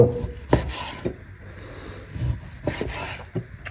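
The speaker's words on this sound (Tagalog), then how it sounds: "Hiwain ko lang to." A knife slices through roast beef in short rasping strokes, a few distinct scraping cuts separated by pauses, close and fairly quiet, with no talk.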